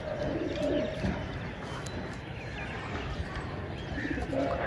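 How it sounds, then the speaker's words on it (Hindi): Two or three homing pigeons coo softly outdoors, a low repeated cooing over steady wind noise, with a few faint chirps in the background. "दोस्तों ये दो तीन कबूतर ही रह गए हैं"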